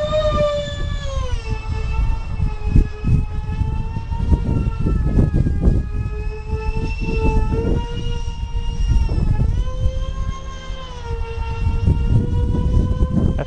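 Scratch-built RC F-22 Raptor with twin electric ducted fans and thrust vectoring screams past loudly, a continuous high whine with rising and falling harmonics as it flies close, steady throughout.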